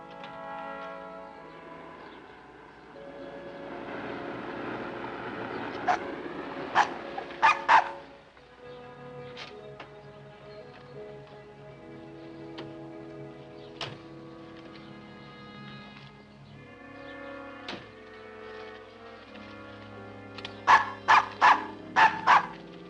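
A dog in a 1950 film serial gives a few sharp barks in two short bursts, heard over an orchestral film score that plays throughout.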